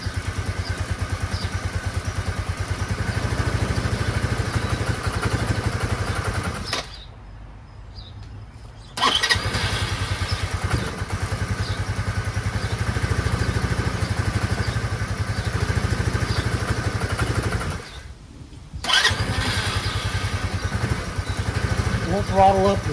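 A cheap Chinese motorcycle engine idles roughly while running rich, its steady chugging loud and close, dropping out twice for a couple of seconds each before picking back up.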